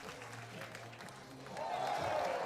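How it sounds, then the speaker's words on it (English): Spectators at an athletics meet in La Chaux-de-Fonds reacting to a long triple jump, a murmur with distant voices that swells into a broad burst of cheering and applause in the final second. "Big cheer from the crowd there"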